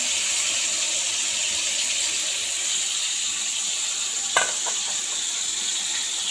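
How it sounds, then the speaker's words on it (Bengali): Pointed gourd pieces frying in oil, a steady close hiss of sizzling with one brief clink of a utensil partway through and no speech. "প্রথমে যে পটলটা ভেজে নিচ্ছি, একদম ভাজা না, আমাকে ছেঁকে নিচ্ছি তেলেতে"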